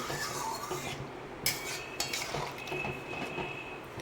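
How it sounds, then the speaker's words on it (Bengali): A spoon scrapes and clinks against a metal pot as chicken is stirred with water, giving soft irregular clatters and a few sharper knocks over a low background hum. "জল দিয়ে একটু নেড়ে চেড়ে"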